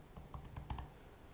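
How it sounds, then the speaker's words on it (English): Several quick keystrokes clatter on a computer keyboard in a short irregular burst, close but quiet, followed by a brief pause with no voices. "the moment I type Playwright"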